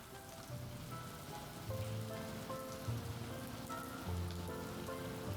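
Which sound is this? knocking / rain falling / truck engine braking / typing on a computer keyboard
rain falling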